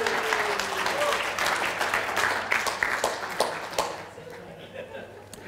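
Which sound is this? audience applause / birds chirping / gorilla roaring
audience applause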